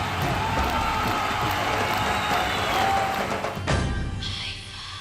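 Audience applause and cheering fill a stage event as Vijay Yesudas walks on, a dense, loud crowd roar with clapping that continues steadily and then shifts slightly near the end.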